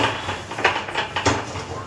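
A metal wok is set down on a stovetop with a couple of short clanks amid kitchen clatter and faint background noise.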